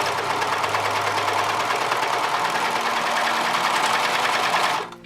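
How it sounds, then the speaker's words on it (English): Brother 1034D serger overlock machine stitching stretch Lycra fabric, a fast steady mechanical whir running continuously at close range for about five seconds before stopping abruptly, with no voices. "And then we'll go ahead and we'll stitch the other way."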